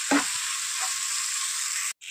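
Spice paste (masala) for parshe fish curry fries in hot oil with a loud, steady sizzle close by, opening with a brief stirring clatter; no voices.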